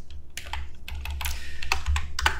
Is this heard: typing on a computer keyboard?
yes